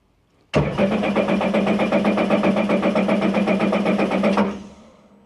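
A Titan 12-foot mini jet boat engine fires up for its first start, catching abruptly and running loud with a steady rapid pulsing chug for about four seconds before cutting off and fading.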